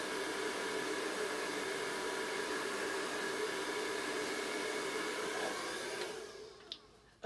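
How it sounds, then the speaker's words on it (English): A blow dryer blows steadily while drying craft transfers, a loud constant whoosh that runs for about six seconds and then cuts off, followed by a brief knock. "if you don't want to use a blow dryer when you're doing these transfers"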